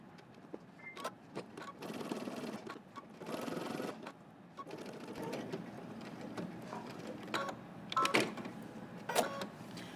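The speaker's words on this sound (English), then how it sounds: "And now again, you're going to sew from dot to dot." Sewing machine stitching a jacket welt from dot to dot, a quiet, close mechanical whir in short bursts with brief pauses and a few sharp clicks between runs.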